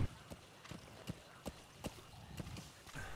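A horse gallops up in the video game Metal Gear Solid V: The Phantom Pain, its hooves clip-clopping in a steady rhythm of sharp, fairly faint strikes roughly twice a second.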